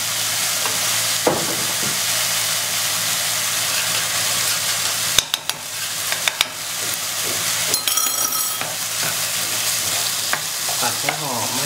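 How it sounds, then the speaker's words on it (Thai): Tofu is stir-fried with oyster sauce in a pan, giving a loud steady sizzle with repeated scraping and clinking of the spatula against the metal, with no talking. "ผัดให้หอมให้เข้ากันนะกลิ่นเริ่มดีแล้ว"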